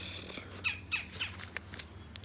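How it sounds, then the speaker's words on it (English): Several sharp, squawky woodpecker calls ring out in a quick series, fairly faint against a low background hum. "And of course, the noisy birds. See them? That's a woodpecker, I think."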